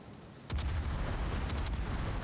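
Naval gunfire in the World of Warships game, with a loud, deep salvo booming in suddenly after a quiet moment and a few more sharp shell blasts following over a lasting low rumble.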